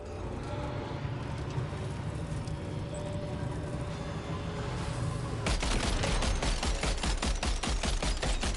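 Rapid automatic gunfire rattles in Death Stranding 2 against BT enemies, a dense run of steady shots that starts partway through over continuous game ambience.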